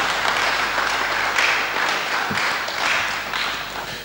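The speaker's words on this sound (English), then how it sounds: "Please, a round of applause for the Director General." A conference audience applauds to welcome the Director General at a Yoruba historical conversation event held in a garden, a dense, even patter of clapping lasting the whole stretch.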